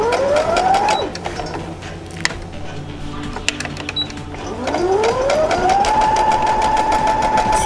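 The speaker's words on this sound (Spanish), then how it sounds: "empezar a coser sobre la pieza de tela antes y después meter nuestra pieza" A sewing machine stitches patchwork fabric in two bursts, each motor whine rising in pitch and holding at speed, separated by a quieter pause with a few clicks.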